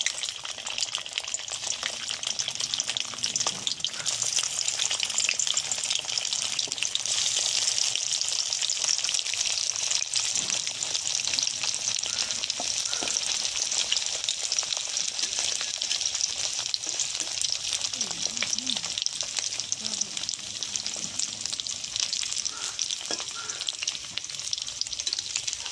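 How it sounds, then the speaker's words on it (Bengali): Egg frying in hot oil in a wok gives a loud, continuous sizzle and spatter close by, holding steady throughout with occasional faint scrapes. "এবার আমি ডিমটা কড়ায় দিয়ে ভাজলাম"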